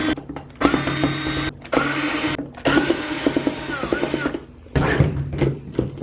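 A power driver backs out screws from the housing of a budget party light in several loud bursts of whirring, separated by short pauses, with brief rattling handling between them.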